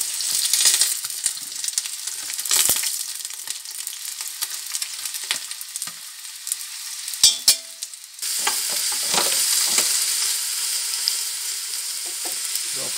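Beef browning in hot oil in a cast-iron casserole for a beef daube bourguignon, a steady loud sizzle with the scrape and shuffle of stirring running throughout.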